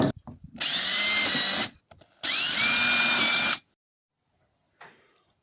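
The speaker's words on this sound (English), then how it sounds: "I pre-drill the holes, and I do them to this side of the plank" A power drill pre-drills holes in a Paulownia timber plank during sailboat cabin planking, two loud whirring bursts of about a second each, close, followed by quiet handling sounds.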